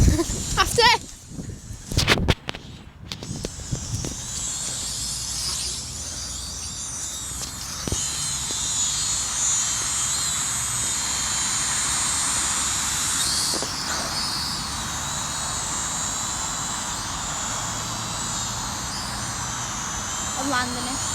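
Toy drone flying nearby with a steady high-pitched buzzing whir, preceded by loud clattering handling noises at the start and people talking intermittently.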